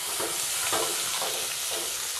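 Ginger, garlic and spice powders including chili powder, amchur, garam masala, cumin and salt sizzle in a pan while being stirred, a steady bright frying hiss with soft rhythmic scraping strokes.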